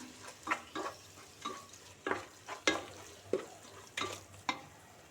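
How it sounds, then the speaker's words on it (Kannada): Chicken kurma masala with garam masala frying in a pan, a quiet sizzle punctuated by a series of sharp, regular spatula scrapes and stirs close by. "ಈ ರೀತಿಯಲ್ಲಿ ಒಂದು ಫ್ರೈ ಹಾಕೋಣ"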